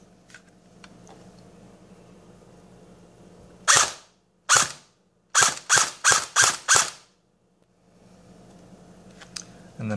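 An SRC RPK airsoft rifle fired on semi-auto, seven sharp, loud single shots with mechanical snaps, two spaced apart then five in quick succession, over a quiet background hum.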